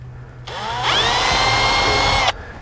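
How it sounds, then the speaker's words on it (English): A small Milwaukee M12 cordless drill with a 1/16-inch bit whirs up to speed and bores a small hole for about two seconds, then stops abruptly; close and loud. "And I'm using actually a 1/16 of an inch drill bit."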